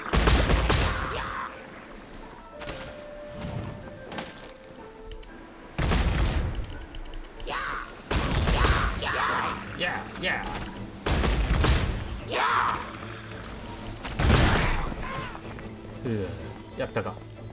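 Bombs go off in Genshin Impact as loud booms and thuds recurring in bursts amid game clatter, with a voice talking over much of it.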